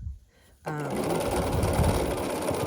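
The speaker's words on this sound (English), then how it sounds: "sew with 1/4 inch seam allowance here" A sewing machine stitches a quilt block with a quarter-inch seam, starting after a brief quiet moment and then running as a steady, close, continuous motor whir and needle chatter to the end.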